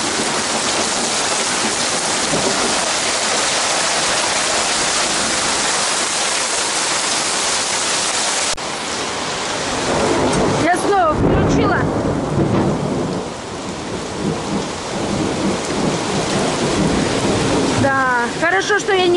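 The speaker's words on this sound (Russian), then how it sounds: "И такой вот ливень пошел." A heavy rain downpour pours over a home vegetable garden, a dense, loud, steady hiss that fills the whole stretch, with a brief shift in intensity midway.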